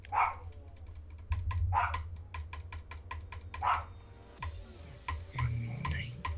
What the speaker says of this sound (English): The way you're typing this out is just really inconvenient because I can't keep up with it.